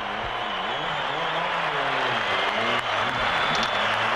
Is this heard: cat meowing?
no